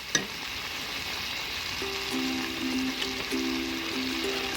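Chicken liver frying in a kadhai, with green chillies tipped in, gives a steady close sizzle and crackle throughout, with a brief clatter at the start and a faint hum underneath.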